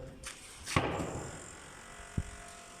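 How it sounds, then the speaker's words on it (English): A door is pushed shut with a single loud slam, followed moments later by a short, sharp thud like a lock or bolt, in a quiet room with no talking. "pushed him and locked the door"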